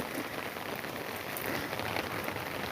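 Steady rain falls in a garden, a dense even patter of drops on surfaces with no voices, continuous and moderately quiet.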